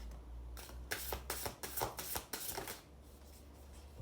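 Tarot card decks being shuffled, a rapid run of riffling card snaps in a burst lasting a couple of seconds, close and crisp, with quiet stretches before and after.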